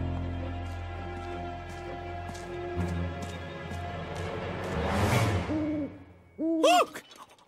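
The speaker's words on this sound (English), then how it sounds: "No, that's just an owl, Lofty." An owl hoots at night in a cartoon scene: a few clear, close hoots ring out near the end over a steady hum, after a soft rising whoosh.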